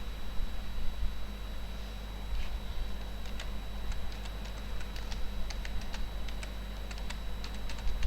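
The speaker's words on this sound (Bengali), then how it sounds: "আমি একটা ওয়ার্ড ওপেন করছি, করেই লিখে দিচ্ছি, দেখো।" Someone types quickly on a computer keyboard while writing in Microsoft Word, with light irregular key clicks over a steady low hum and no talking.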